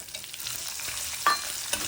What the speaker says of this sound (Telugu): ఈ ఉల్లిపాయలు వేగే వరకు మగ్గించుకోవాలి